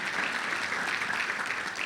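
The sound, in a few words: congregation applauding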